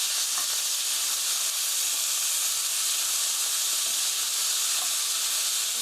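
Meat stir-fries in a pan with mushrooms and vegetables for japchae, a loud, dense, unbroken hissing sizzle that stays close and constant throughout with no pauses.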